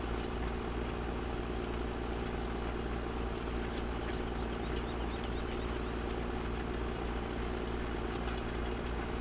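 A John Deere 8400R tractor engine runs in Farming Simulator 17, a steady low drone that holds evenly throughout with no breaks or talk.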